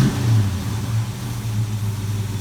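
A junkyard 1970 Dodge Super Bee's engine gets a quick blip of the throttle during idle mixture adjustment, a loud, close, steady rumble that holds without pause, no voices.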